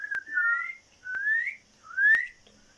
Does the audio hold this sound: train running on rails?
no